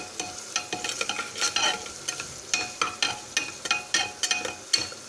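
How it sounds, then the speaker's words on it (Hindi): Chopped onions, garam masala and ginger fry in a pan, with bursts of sizzle and repeated scraping strokes of a spatula stirring them, close and lively, with no talking. "ये सब प्याज, गरम मसाले और अदरक हमने डाल दी और इसको हम थोड़ा सा फ्राई कर लें"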